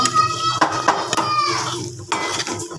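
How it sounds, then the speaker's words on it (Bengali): Noodles cooking in a pan with potato, onion, green chili and carrot, with metal utensils clattering and scraping against the pan in quick, close, irregular strokes. "নাস্তার জন্য নুডলস রান্না করা হচ্ছে"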